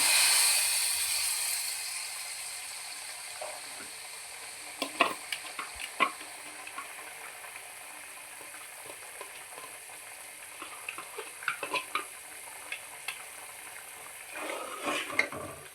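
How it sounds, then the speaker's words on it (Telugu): Two cups of water boil in a pot while semiya kesari is being made. The bubbling is soft and close, with scattered small pops and clicks over a quiet, faintly hissing background. "వాటర్ మరిగినాయండి"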